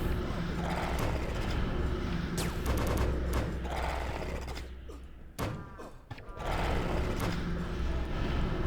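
SMG gunfire rattles in the Anarchy Online video game in bursts over steady game music and combat effects, with a brief lull near the end before the noise resumes.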